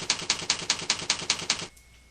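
Computer keyboard keys struck in a quick even run of about nine clacks, close and crisp, then silence.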